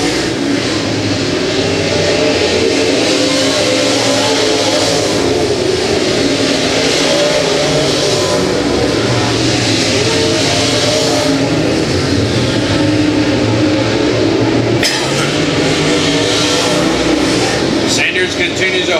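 Race cars run a heat on the Humboldt Speedway track, a continuous loud roar of engines revving and passing, with an announcer's voice heard over the noise.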